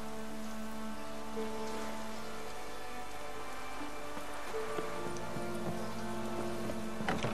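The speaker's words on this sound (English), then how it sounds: "Looks like rain." Rain falling in the video game The Witcher 3: a dense, steady patter of rain on surfaces throughout, mixed with soft game ambience and low tonal music, with a brief knock near the end.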